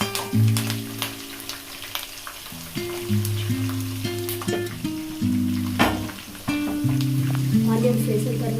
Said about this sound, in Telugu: ఉల్లిపాయ తొందరగా వేగాలి అంటే కొంచెం ఉప్పు వేసుకోవాలి